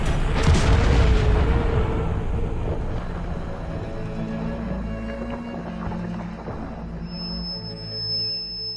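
A big anime explosion booms loudly, with a deep rumble that keeps rolling and slowly dies down, leaving scattered debris-like crackles.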